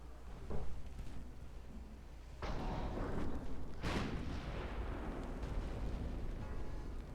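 Battleship 12-inch guns firing in a naval combat video game, several heavy booming blasts with rumbling tails spread over a low continuous background roar.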